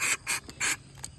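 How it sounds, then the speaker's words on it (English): Short bursts of starter fluid sprayed into the filter housing of a Troy-Bilt TB110 push lawnmower, three hissing blasts in quick succession followed by a fainter puff, close to the listener. "Spray it in that filter."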